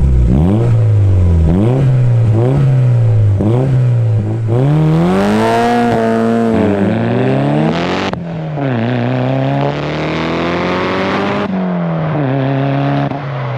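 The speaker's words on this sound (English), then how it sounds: "you can tell it's a quality exhaust system" A Toyota Celica GT-Four with an aftermarket exhaust drives hard, the engine loud and close as it revs up through gears with rising and falling exhaust note and gear-change dips.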